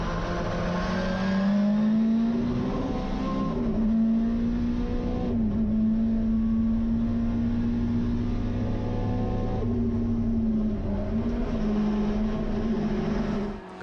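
A race car engine drones steadily and loudly through a lap at Sonoma Raceway in the Toyo Tires 2.5 Challenge, a sustained high-revving tone with slight pitch dips at gear changes.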